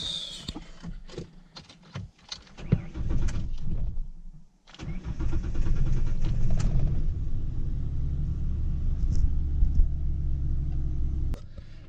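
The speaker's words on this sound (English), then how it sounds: "right now, moving the truck" A Ford Ranger pickup's engine cranks and catches after a few seconds of clatter, then settles into a steady low rumbling idle close by as the truck is about to be moved in a driveway.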